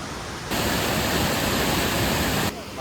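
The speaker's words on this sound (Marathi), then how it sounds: "मुसळधार पाऊस पडतोय" Heavy monsoon rain pours down beside waterfalls in a Konkan village near Devgad, a dense, steady roar of hiss that rises abruptly, holds for about two seconds, then drops back.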